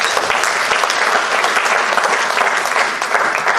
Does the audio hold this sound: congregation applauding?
yes